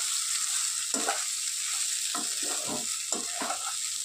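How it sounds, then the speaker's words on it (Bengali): Marinated rice for basanti pulao being lightly stirred in a pan: a constant soft sizzle underneath, broken by a few brief scraping strokes of the spoon at irregular moments. "নেড়ে চেড়ে নিয়ে এবার ম্যারিনেট করা চালটা দিয়ে দেবো। দিয়ে দিয়েছি, এবার একটু হালকা নেড়ে চেড়ে নেব।"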